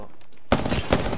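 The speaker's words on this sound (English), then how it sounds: "But why is he shooting?" Gunfire in the Apex Legends video game erupts abruptly after a brief quiet, a rapid burst of close, loud shots with a second spike shortly after.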